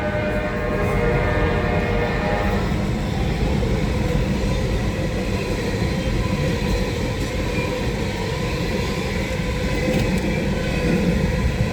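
A train rolls past at a railway depot with a loud, continuous rumble of wheels and cars, and a horn sounds briefly near the start before the steady roar carries on.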